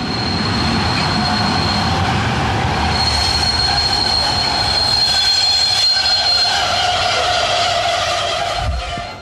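Along the Lahn railway near a manned level crossing, a nearly empty late-evening passenger train rolls past, loud and close, with steady rumbling and high, sustained wheel squeal throughout.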